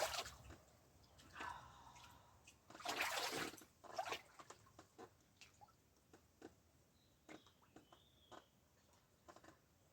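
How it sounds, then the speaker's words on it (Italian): Splashing in fresh cool water in a garden setting, with a burst of splashes and drips early on, then scattered small drips and patters, fairly faint and close. "mi rinfresco un attimo in quest'acqua bella fresca"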